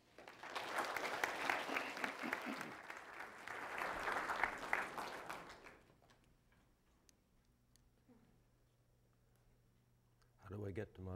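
Audience applause welcoming a speaker at a talk on food, sustained and fairly loud for about six seconds, then dying away to a quiet room with faint handling noises and a brief rustle near the end.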